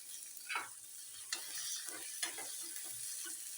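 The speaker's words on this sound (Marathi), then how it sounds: "तेलातच थोडीशी कोथिंबीर टाकून घ्यायची" Coriander going into hot oil for a Marathi green bean dish, a quiet crackling sizzle with a few sharper pops and spoon scrapes against the pan.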